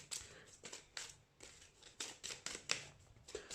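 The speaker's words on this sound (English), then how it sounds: "let's give this a good shuffle." Quiet, papery bursts of a deck of Marvel Champions cards being shuffled and riffled, repeated in short irregular flurries close by.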